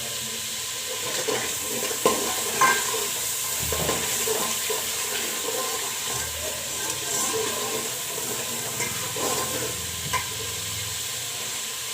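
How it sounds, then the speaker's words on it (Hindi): Masala spices fry in oil in a pan with a steady, faint sizzle and occasional soft stirring knocks, heard close with no talking. "ये देखें मसाला हमारा भुन गया है, ऑयल ऊपर आना शुरू हो गया है।"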